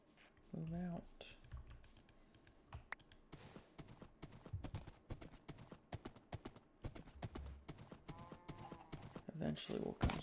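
Horse hooves in Minecraft with the Create mod, sharp irregular clip-clop clicks repeating throughout, with brief in-game sounds at the start and end.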